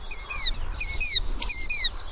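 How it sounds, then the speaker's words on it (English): Killdeer calling in a clear, loud series of three shrill whistled phrases, each a quick pair of rising-falling notes, evenly spaced with short gaps. "Starlings are especially astute imitators of bird sounds that have a whistled feel, like this sound of a killdeer."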